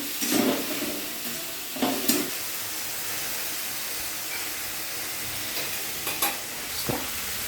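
Gravy sautéing in a pan and being stirred: a few scraping stirs rise over a steady frying sizzle, with no talking.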